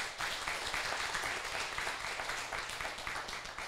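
Seated trainees at a legal-theory class applaud themselves, a dense, even patter of many hands clapping together at moderate volume, continuing without a break and with no speech on top.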